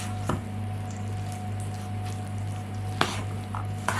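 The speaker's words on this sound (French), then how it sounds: "Et on mélange." A spoon stirs a zucchini and herb cheese filling in a bowl, with soft squishy scrapes against a steady background hum and a few sharper knocks near the end.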